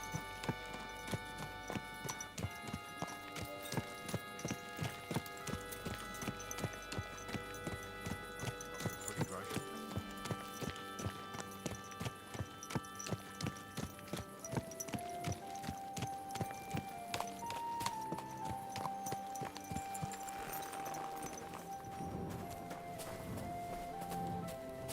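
Horse hooves clip-clop steadily in a medieval game setting, a regular walking rhythm running throughout beneath a layer of music with sustained tones.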